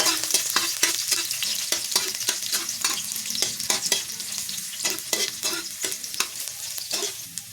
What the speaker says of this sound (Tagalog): magigisa muna tayo ng mga bawang at sibuyas